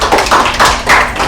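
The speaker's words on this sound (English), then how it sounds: "So let's clap it up." A group claps together in a high school classroom, a burst of quick, loud, overlapping hand claps lasting about a second, close by with no talk.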